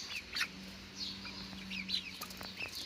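Backyard hens cluck and chirp softly in short scattered bursts at close range, with a low steady hum running underneath.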